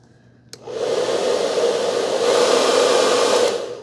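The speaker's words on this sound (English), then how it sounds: "Kind of a traditional hair dryer" A traditional hair dryer with an audible motor switches on with a click and then runs loud and steady, giving a continuous whooshing blow of air with motor whine.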